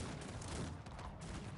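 Massed gun and cannon fire in the strategy game Cossacks 3, heard as a dense, continuous crackling volley at moderate loudness with no single shot standing out.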